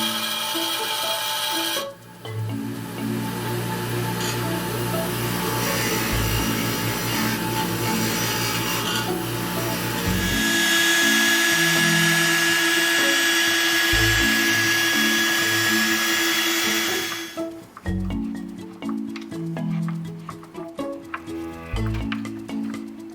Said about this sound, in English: what we just did is we drilled a second of 3 holes